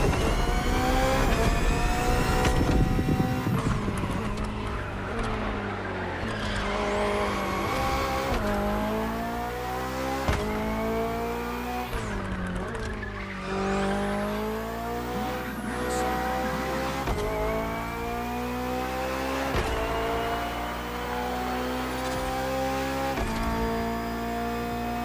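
A BMW hybrid V8 race car in The Crew Motorfest roars continuously through repeated upshifts and revving, with tire squeal during hard cornering, loud and close throughout.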